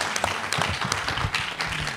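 An audience applauds in a French awards ceremony for children's media programmes, a dense steady patter of clapping throughout with no break.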